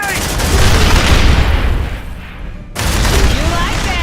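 A grenade blast and sustained automatic gunfire in the Aliens: Dark Descent video game, loud dense bursts filling the scene, a brief dip and cutoff, then the firing resumes just as heavily.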